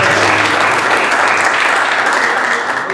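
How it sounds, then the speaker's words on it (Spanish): Audience applause after a philosophy talk on Kierkegaard, a steady dense clatter of many hands clapping throughout, loud and close with no talk over it. "Yo creo que le damos un aplauso."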